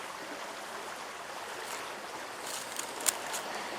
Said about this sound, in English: And I've got a brook right behind me. Water's a little high